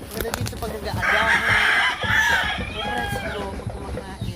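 Chickens in a rural provincial yard cluck and one rooster crows clearly in the middle, with background chatter and farmyard noise throughout.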